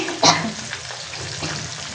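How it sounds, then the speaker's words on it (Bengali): Tilapia fish frying in a pan crackles and sizzles close by, with a sharp spatter burst near the start and then a softer steady bubbling. "মাছটা ভাজা হোক"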